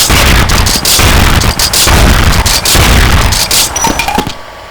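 An M3 Leone 12 gauge shotgun fires at point blank range in a video game, a dense run of loud booming blasts and bursts in quick succession, with no talk.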